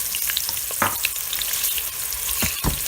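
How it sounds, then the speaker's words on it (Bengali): A cup of sliced onion goes into hot oil, sizzling and crackling steadily with a few sharper spatters and stirring scrapes close by; no voices. "তেলটা একটু গরম হয়ে গেলে এই যে এখন আমি 1 কাপ পেঁয়াজ দেব"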